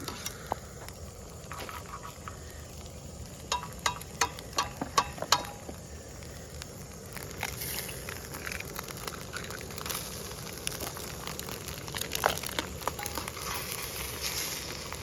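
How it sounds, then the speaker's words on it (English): Eggs are scrambled in a pan over turned-down heat at a campout, giving a soft, steady sizzle broken by faint scattered taps and scrapes of a utensil against the pan. "So we're just gonna scramble them up"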